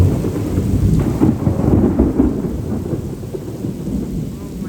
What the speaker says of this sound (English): This thunder's crazy.